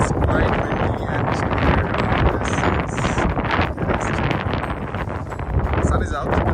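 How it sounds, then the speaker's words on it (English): Strong wind buffets the microphone high on the Grossglockner glacier at 3,760 meters, a loud continuous roar with gusty swells, while a person talks over it. "As you can see, it's quite windy"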